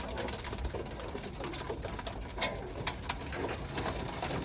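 Birmingham Roller pigeons in a cage during feeding, a dense, steady rustle of wings, feet and pecking with faint cooing and a few sharp clicks, moderately quiet throughout.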